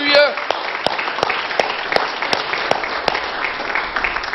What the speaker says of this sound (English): Can we give Him another hand clap of praise tonight?